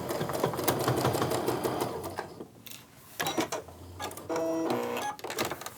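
A sewing machine runs a quilt row off the fabric edge in rapid mechanical chattering bursts, pausing briefly and then resuming, with faint clicks between runs and no voices.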